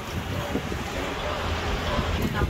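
Strong storm wind roars steadily outdoors, a loud broadband rush with low gusting rumble throughout and no pause.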